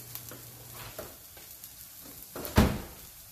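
Food fries in a pan during home meal prep, a soft low sizzle with faint stirring or scraping sounds and one louder clunk near the end, with no talk.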